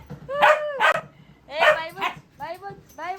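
A dog at a family home during a birthday visit gives a run of close, short yelping barks and whiny yips in quick bursts, with voices around it.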